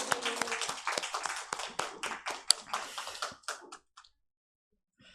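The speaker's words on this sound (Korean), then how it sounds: "큰 박수 부탁드리겠습니다" Congregation at a Christmas thanksgiving church service gives applause for children, a modest round of clapping with distinct hand claps that thins out and stops after about four seconds, leaving near silence.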